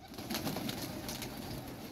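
Pigeons coo softly in a loft where young birds are being handled, a low murmuring chorus of repeated throaty coos at moderate distance, with no talk over it.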